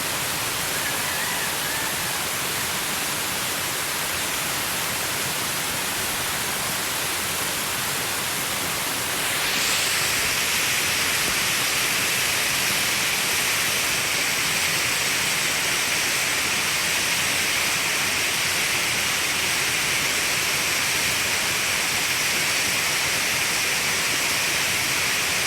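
Tarimes Falls on Mt. Rodriguez, Rizal, roars as rushing water pours down in a steady, loud, unbroken wash that grows fuller partway through, with no voices over it.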